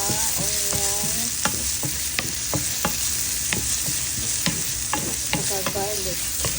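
Onions and ginger sauté in a hot pan for spicy pork and beef sisig, with a loud steady sizzle and frequent sharp clinks and scrapes of a utensil stirring, all close to the microphone and with no talking.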